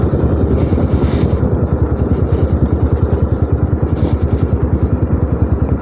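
A motorcycle engine idles in neutral while rolling down a hill road near Thandiani, Abbottabad, with a steady, rapid, loud putter running throughout.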